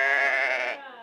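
A Jacob sheep bleats once, a close, loud and quavering call lasting nearly a second, with no voices alongside.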